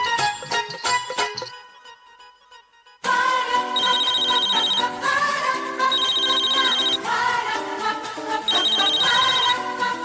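A melodic phone ringtone plays loudly, stops briefly, then resumes with a repeating electronic tune and bright chiming notes.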